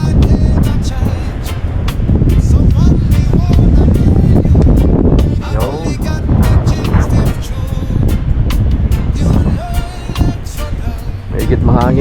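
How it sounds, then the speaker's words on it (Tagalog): Strong gusts buffet the microphone on a hot day outdoors, making loud, uneven rumbles with sharp crackling bursts, mixed with people talking. "Mahigit mahangin."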